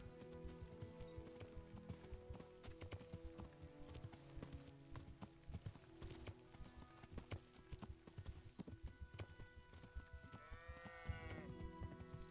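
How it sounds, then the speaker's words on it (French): A horse gallops in the medieval open-world game Kingdom Come: Deliverance, its hooves making steady, rapid clip-clop beats over a continuous game soundscape, with a brief whinny-like sweep near the end. "Galopons vers le nord."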